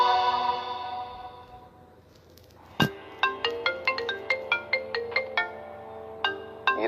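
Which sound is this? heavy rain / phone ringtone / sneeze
phone ringtone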